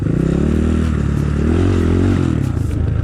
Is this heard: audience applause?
no